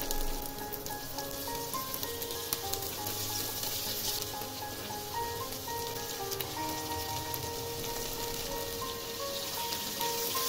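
Tangra fish fry in hot mustard oil in a pan, giving a continuous, steady sizzle and crackle with no one talking.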